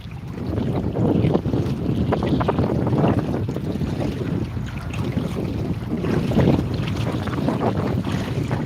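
Strong wind gusts batter the microphone at an ocean campsite, a loud continuous roar with swelling rushes and a hint of surf beneath, no voices present.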